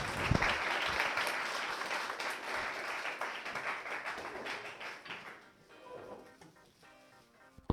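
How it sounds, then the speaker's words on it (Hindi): An audience claps for an honoured traffic officer at a felicitation event, loud sustained applause that fades out after about five seconds, leaving quiet room sound and faint tapping. "एक बार जोरदार तालियां हो जाए सर के लिए।"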